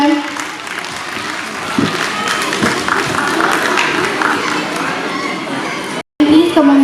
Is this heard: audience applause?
yes